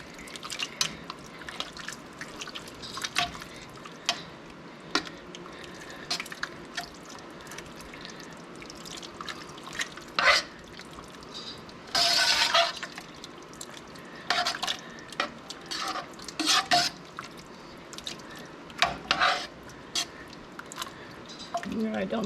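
Tomato paste mixture stirred in a pot to break up clumps, soft wet squishing and dripping strokes in irregular bursts, close and quiet, with occasional talking.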